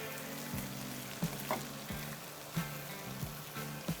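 Fresh spinach wilting in a hot pan for a single serving of polenta lasagna, with a soft, steady sizzle and occasional light taps under a low hum.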